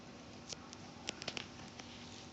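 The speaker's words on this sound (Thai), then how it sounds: "เดี๋ยวพาไปเบิ่งฝนอันนี้บรรยากาศก้อนฝนนะคะ" Rain falling on a garden in dark, windy weather: a steady, soft hiss of rainfall with scattered brief drip and patter taps standing out, fairly faint and even throughout, with no voices.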